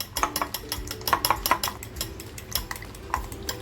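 Chicken mixed with spices, black pepper and salt in a bowl, a quick run of close clinks and scrapes of a spoon against the bowl in an uneven rhythm, with no talking.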